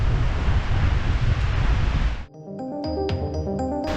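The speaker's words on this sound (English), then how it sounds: "super windy today" Strong wind buffets the microphone at Mt Erie summit in Anacortes, Washington, a loud roaring gust for about two seconds that cuts off abruptly into quieter, tonal background sound.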